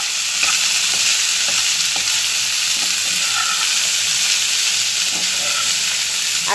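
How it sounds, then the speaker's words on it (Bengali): Okra fries and is stirred in a pan, a steady loud sizzle running throughout with soft scraping strokes of the spoon; no one speaks. "ভাজি করছি ঢেঁড়স।"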